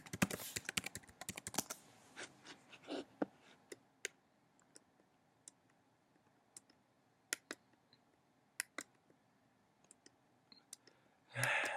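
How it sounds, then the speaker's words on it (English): Quiet keyboard typing in a small room: a quick flurry of keystrokes, then scattered sparse clicks, ending with a short rustling noise. "Typed in my name."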